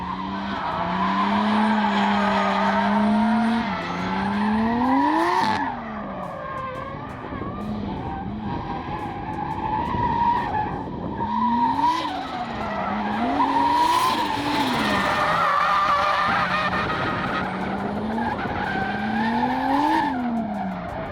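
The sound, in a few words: drift car skidding, handbrake pulled with clutch engaged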